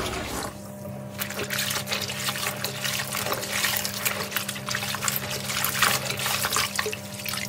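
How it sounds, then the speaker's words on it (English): Steady running tap water splashing over a baby's fabric coverall bib as it is rinsed in a sink, a continuous close trickle with faint shifting splashes throughout. "So now I'll just rinse this and then it's ready for the spin dry."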